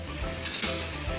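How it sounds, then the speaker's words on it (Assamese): Garlic, ginger and chili paste fries in a pan with a steady, soft, close sizzle that stays even throughout, with no speech over it. "এইখিনি মই ভালদৰে ভাজি থাকিম, কেঁচা গোন্ধ নোযোৱালৈকে।"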